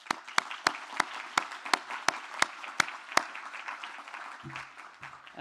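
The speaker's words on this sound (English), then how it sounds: "a round of applause" At a policy session conference, the audience claps in sharp, evenly spaced beats, a fairly sparse and rhythmic round of applause heard from a distance in a quiet room.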